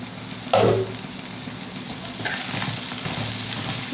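Onion, tomato and garlic sautéing in a pan, a steady close sizzle opened by a short loud clatter as ingredients drop in, with light stirring afterward and no voices.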